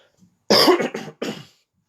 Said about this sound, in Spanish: Perdón, que estoy un poco con una tos seca.